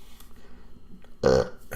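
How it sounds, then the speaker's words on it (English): A single short, loud, voiced burp near the end of a quiet moment, preceded only by faint mouth and room sounds. "burp like a motherfucker. When I talk so much, all the air comes out."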